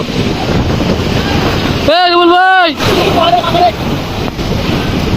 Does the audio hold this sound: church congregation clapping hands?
no